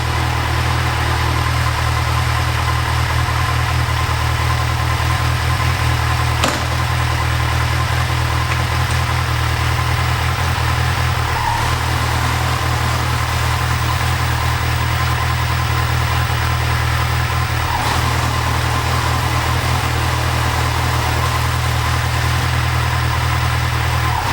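A 2012 Kawasaki Ninja 1000 engine running steadily at idle after a clutch replacement, a loud continuous mechanical drone with a constant low hum and a few faint clicks.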